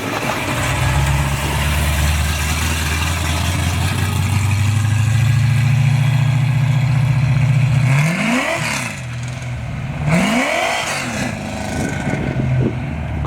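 An Oldsmobile Cutlass race car engine warming up at a racetrack, a loud steady low rumble that climbs into several sweeping revs toward the end, heard fairly close without talking.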